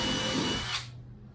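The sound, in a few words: power drill driving screws into kayak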